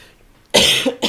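A single harsh cough rings out close by, loud and abrupt, followed by a smaller second cough.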